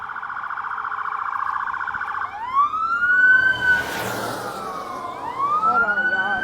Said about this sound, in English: There's police cars racing down my street.